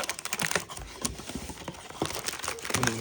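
A 2014 Panini Golden Age trading card box is opened up close, with continuous crinkling and tearing of cardboard and wrapping and quick clicking handling noises throughout.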